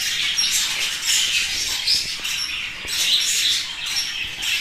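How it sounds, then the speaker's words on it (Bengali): Budgerigars in a breeding setup of about fifty pairs with nesting pots chatter and squawk continuously, a dense, bright flock of overlapping chirps close by. "একবার আপনারা দেখুন আমার বাজিকার পাখিগুলো।"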